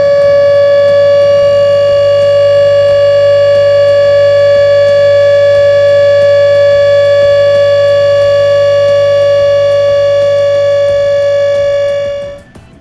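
A steady test tone played through an amplifier, a single loud sustained pitch with strong harmonics and a low hum beneath, holding level for about twelve seconds before cutting off abruptly.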